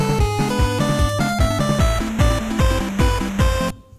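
A loud FamiTracker chiptune loop with punchy pitched-down kick sweeps and rapid bright double hi-hat ticks in a steady rhythm, ending suddenly.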